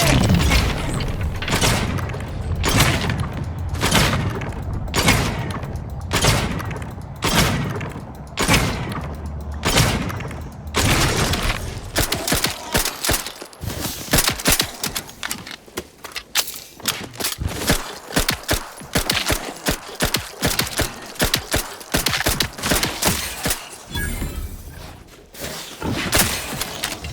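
Rapid bursts of gunfire crack and boom in The Outer Worlds 2 video game. Loud, closely spaced shots come in a steady rhythm at first, then in denser, more irregular volleys.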